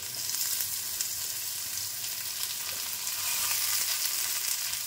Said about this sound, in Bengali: লাউটা আমার খুব ভালোভাবে ভাজা হয়ে গেল দেখুন। এবার আমি কুচিয়ে রাখা টমেটোগুলো দিয়ে দিচ্ছি।